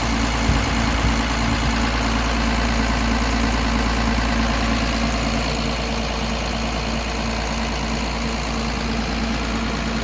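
Tractor engine idling nearby, a loud steady low rumble running unbroken throughout.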